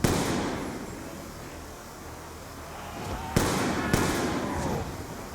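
Gunshots at zombies in Black Ops 2 crack out as two sharp, loud reports a moment apart, rising from a low rumbling background of game ambience.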